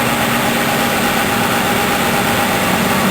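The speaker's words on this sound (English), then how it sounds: "you notice the engine's kind of got a little tiny shake to it right now" A Dodge Grand Caravan engine, model years 2008 to 2020, idles steadily with a faint shake, a constant low rumble recorded close by with no speech.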